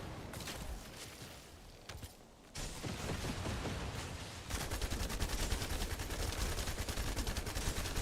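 Continuous automatic gunfire in the online looter shooter The First Descendant, a dense rattling stream that grows louder and busier partway through, with no voices.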